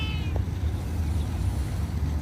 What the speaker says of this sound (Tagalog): Ang cute, ang daming pusa.